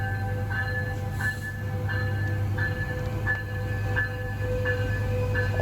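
An LA Metro Rail train passes close by with a steady, loud rumble of wheels and carriages, broken by faint repeated rhythmic clicks along the rails, with no voices.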